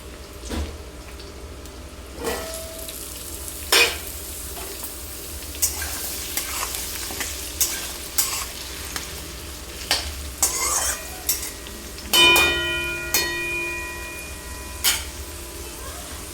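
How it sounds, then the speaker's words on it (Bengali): Cut potatoes fry with onions in a pan for a drumstick and poppy-seed dish, a steady low sizzle broken by scattered scrapes and clinks of a utensil stirring, with a louder clattering burst near the end. "পেঁয়াজটা একটু ভেজে নেবার পরে আমি এতে দিয়ে দিব কেটে রাখা আলু"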